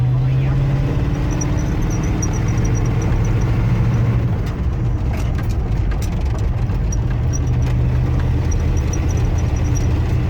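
A 1976 Ford F-250 with a 390 FE V8 and four-speed revs hard in a short peel-out, a loud, steady low engine roar with gravelly rumble throughout, no talk over it.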